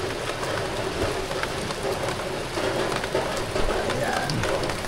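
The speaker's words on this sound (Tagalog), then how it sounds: "Biglang buhos ng ulan." Heavy rain pours at a mountain campsite in Kayapa, Nueva Vizcaya, a dense steady patter on surfaces with scattered louder drops, continuous and close throughout with no speech over it.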